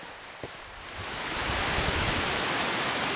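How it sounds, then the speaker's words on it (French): Rushing water of the Serva waterfall, a broad, dense roar that swells in and holds steady and loud, with no talking. "je vais parler un peu plus fort, sinon on va pas m'entendre avec le bruit de l'eau"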